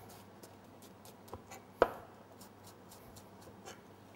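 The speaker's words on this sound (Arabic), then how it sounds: "هلا اول شيء خلينا نفرم البصله تبعتنا ناعمه" An onion is chopped finely with a knife on a board: quiet, scattered cuts with one sharper knock partway through.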